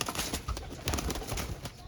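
Breeder pigeons, including a hen, coo repeatedly up close in a loft, their throaty rolling calls mixed with fluttering and shuffling noises.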